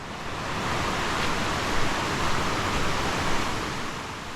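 Water rushing steadily between curved, oddly shaped boulders in a mountain valley gorge, a continuous broadband roar close by and alone, with no voices.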